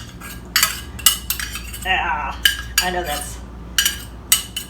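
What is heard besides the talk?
spoon scraping canned pumpkin into bowl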